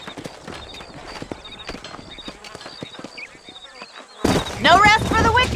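Horse hooves clip-clop across the ground in the Red Dead Redemption video game, a steady rhythm of knocks under a voice. A louder, harsh burst of noise takes over near the end.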